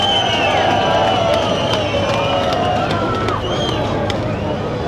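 Spectators at the 2009 Russian ice speedway individual championship final in Saransk applaud a rider, a steady, loud roar of clapping and crowd noise with sharp claps standing out.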